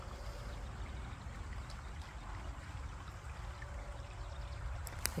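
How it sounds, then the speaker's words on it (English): A brook flows below a forest path with a quiet, steady rush of water, distant and even, with a couple of faint clicks near the end. "there's that brook down there."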